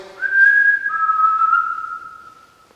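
A single person whistles a clear, steady tone that steps down slightly in pitch and holds, fading gently at the end, with no talking.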